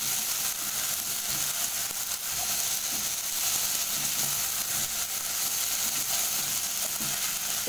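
Meat loaf mixture sizzles steadily in a hot pan as seasoning, salt and thyme are stirred through it, a dense continuous frying hiss with faint scraping of the spoon, close up and without speech.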